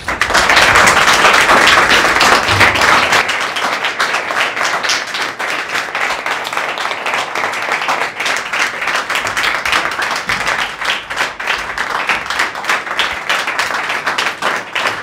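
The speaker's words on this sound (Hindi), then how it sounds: "ये वो तालियों की गड़गड़ाहट है" Loud, sustained applause and clapping from friends welcoming a young woman newly selected for India's National Defence Academy, dense and steady throughout with a brief cheer near the start.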